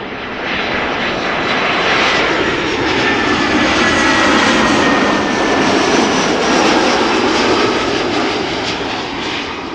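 Jet engines of an Arkia airliner arriving at Amsterdam Schiphol, a loud, steady broadband roar rising gently to a peak and easing off as it passes, with no voices.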